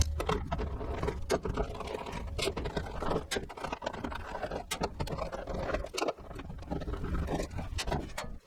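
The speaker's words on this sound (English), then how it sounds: "There are 6 1/4-inch sheet metal screws that will take this cover off. I'm just using a regular bit extension." Six quarter-inch sheet metal screws come out of a Whirlpool dryer cover, driven with a plain bit extension, in a run of close mechanical whirring and ratcheting broken by sharp clicks and clatters.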